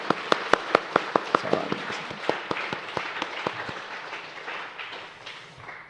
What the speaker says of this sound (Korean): 우리 힘차게 박수로 한번 격려 한번 해드릴까요?